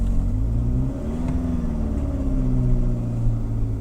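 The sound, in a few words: 2012 GMC Terrain engine starting and revving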